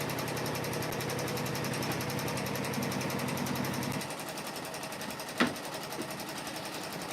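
A Janome M17 sewing machine stitches a quilt block in the hoop, a steady fast mechanical whir that runs evenly, then drops to a quieter hum partway through with a brief sharp click near the end.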